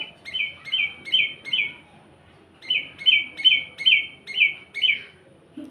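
Quick chirps sound in two bursts of about five or six, a short pause between them, clear and close.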